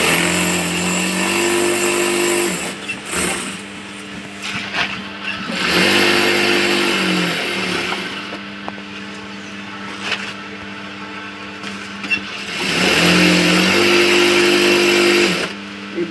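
An industrial sewing machine with a 16-size needle stitches small market bags in loud, close bursts of whirring motor hum. Short pauses and handling clatter separate the runs.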